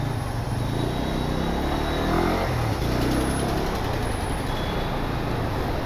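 Bumper-to-bumper road traffic surrounds a Bajaj Pulsar N125 motorcycle stuck in a jam, giving a constant broad roar of idling engines from trucks, buses and cars, with no voices standing out.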